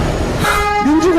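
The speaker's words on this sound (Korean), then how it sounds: "대한민국이 민주공화국이 아니라 빵빵거리죠 지금." Car horns honk outside during a street political campaign event, with loud sustained tones that overlap and shift in pitch across the whole moment.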